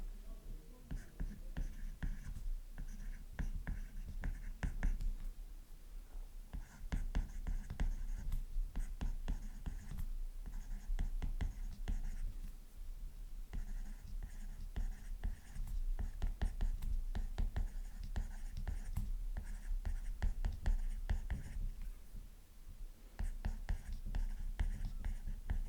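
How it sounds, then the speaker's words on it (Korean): A pen scratches steadily across paper while a sentence is written out by hand, close and quiet, in short strokes with brief pauses over nearly half a minute. "자, 그러면 이걸 한번 써볼게요."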